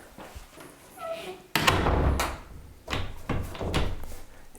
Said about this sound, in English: Let's try to latch this door again.